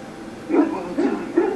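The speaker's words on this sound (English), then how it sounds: "Now these are some awesome dogs." A dog from the video game Dragon Age: Origins gives three short, muffled barks at a steady pace. The barks are moderately loud and close, with no talk over them.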